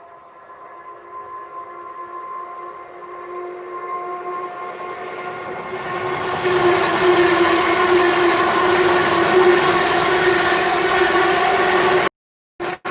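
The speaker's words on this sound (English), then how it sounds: "see the Pendolino" A Pendolino express passes on the West Coast Main Line north of Crewe, its rushing, whining roar swelling from a distant approach to a loud, steady pass close by, with no voices.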